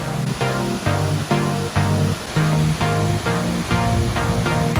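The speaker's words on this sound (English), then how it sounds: "So this waterfall right here is called Slap Sum." Slap Sum, a waterfall near Lake Bled in Slovenia, pours as a loud, steady broadband rush, with pulsing surges throughout.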